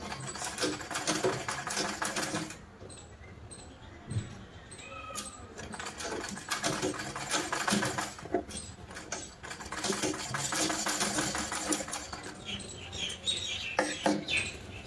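A sewing machine stitches the neckline of a simple blouse in a tailoring boutique, running in uneven bursts of rapid needle patter with brief pauses between runs.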